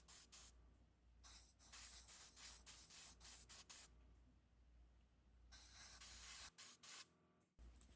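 Short bursts of spray paint hiss onto a 1973 Lesney Matchbox Rod Roller die-cast casting, several separate quiet sprays with brief pauses between them.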